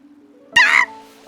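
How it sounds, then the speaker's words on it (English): A single short meow from a cat in the video game Infinity Nikki, rising then falling, heard up close over a steady low background hum. "Look at the cat."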